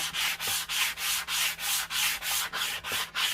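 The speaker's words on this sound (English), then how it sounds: "I'm going to use this sanding block just to smooth everything out." A sanding block rasps back and forth across wood in a quick, regular rhythm, about eleven strokes, close and steady with no talking.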